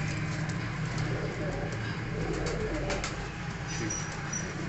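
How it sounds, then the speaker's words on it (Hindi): Kalduma pigeon cooing, soft low repeated coos among other pigeons in a loft, with faint rustling and distant bird chatter around it. "कल दुमा कबूतर है माशाल्लाह"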